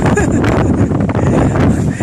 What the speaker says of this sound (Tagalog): Malakas po ng hangin mga ka-idol.